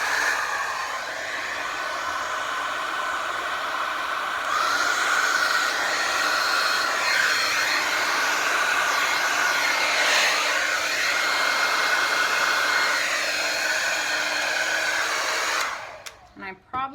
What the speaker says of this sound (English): you guys are going to hear my blow dryer, so I apologize for the noise in advance